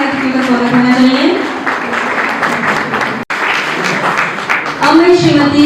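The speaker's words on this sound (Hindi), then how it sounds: "जोरदार तालियों द्वारा हमारे अतिथि का स्वागत होना चाहिए।" Audience at a workshop on PM Mudra Loan and Mera Yuva Bharat applauds to welcome a guest, steady clapping running under a speaker's amplified voice, with a brief cut midway.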